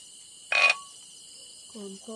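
Frogs croaking at night in a rural Thai rice field, with a sudden loud burst near the start, then a few short low croaks later on.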